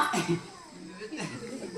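A cough in a Konkani comedy stage play, two short bursts near the start and another around the middle, heard close and moderately loud against a faint background with no clear speech.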